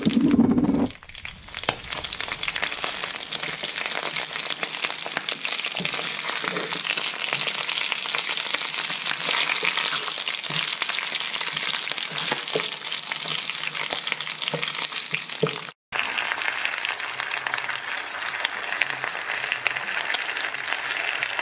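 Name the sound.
pig trotters frying in wok with brown sugar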